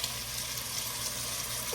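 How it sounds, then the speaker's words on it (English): Two cans of diced tomatoes heat in a pot on the stove, giving a soft, steady sizzle and faint bubbling hiss with no talking. "Get that heat up so we can get it boiling."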